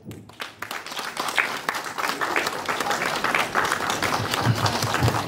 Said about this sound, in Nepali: कृपया सबैजनाले जोरदार तालीले सम्मान गरौँ